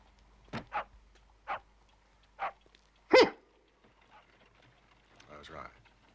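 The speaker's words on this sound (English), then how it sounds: "A curly-haired spaniel." A curly-haired spaniel barks in short, separate yelps spread through a quiet interior scene, with one louder bark near the middle and a brief rougher outburst toward the end.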